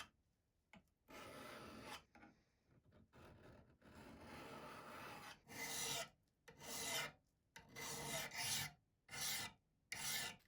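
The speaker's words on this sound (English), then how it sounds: "a file can take care of that." A hand file rasps along a long unhardened steel dagger blade, smoothing out belt-sander marks in a run of steady strokes, each a harsh, close scrape separated by short pauses.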